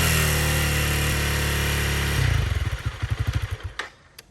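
A Honda CRF300L Rally motorcycle engine holds a steady high rev near 5,000 rpm with a buzzing vibration, then drops off into a series of rapid, pulsing blips that fade out, loud and close.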